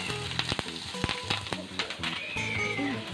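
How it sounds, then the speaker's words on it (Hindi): Crushed ginger, garlic and green chili fry in hot oil for masala bhindi, giving a lively sizzle with clinks of a utensil stirring the pan, close and clear. "अब इसमें क्रश किया हुआ अदरक लहसुन और हरी मिर्च ऐड करेंगे"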